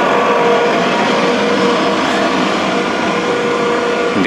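A vehicle passes on a town road among construction machinery and delivery traffic in Garmisch-Partenkirchen, a steady loud broadband engine and tyre roar holding throughout without speech.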